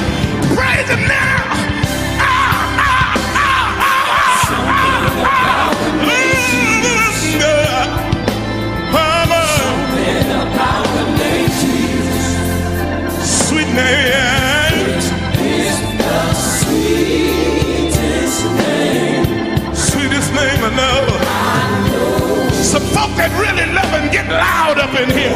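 A church congregation yelling and whooping loudly together, a dense, continuous roar of many voices mixed with music that never lets up.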